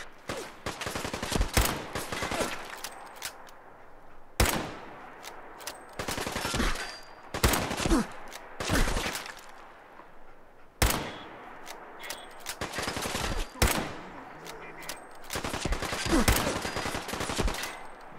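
Bursts of gunfire in Fallout 4, rapid automatic volleys and single sharp shots in irregular clusters separated by brief lulls, loud and close.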